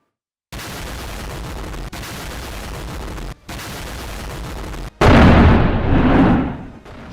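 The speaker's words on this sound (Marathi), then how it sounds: "हा धमाका आहे पाकिस्तानातल्या बलुचिस्तान प्रांतातला." An IED blast aimed at a Pakistani army vehicle in Balochistan: after a few seconds of hard-edged broadband noise broken by sharp gaps, a loud, booming burst swells and then fades away, with no voices present.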